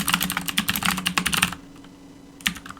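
Fingers type rapidly on a computer keyboard, a dense run of close, crisp key clicks that stops abruptly, followed by a brief pause and one last short burst of keystrokes.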